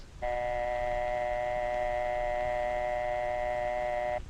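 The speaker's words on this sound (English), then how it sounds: "wait for the dial tone" A steady telephone dial tone hums continuously for several seconds, clean and unbroken, with no voices.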